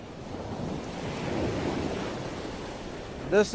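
Waves wash onto a beach whose sand is now made of plastic, a continuous soft roar of surf with gusty wind noise, steady and moderately loud, with a brief voice at the very end.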